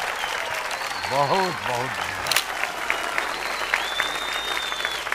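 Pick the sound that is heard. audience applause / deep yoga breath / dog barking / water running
audience applause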